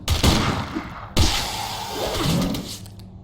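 Gunfire from a firearm in the dungeon-crawler video game Legend of Grimrock 2, two loud sharp blasts about a second apart, each trailing into a rumbling decay, with no talk over them.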